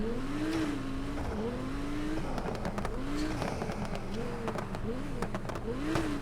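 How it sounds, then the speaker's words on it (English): A race car engine in the racing game NFS Heat revs hard and shifts through gears, its pitch climbing and dropping repeatedly, with crackling exhaust pops and steady engine drone. A voice talks over it. "Just hear this car, it sounds so good."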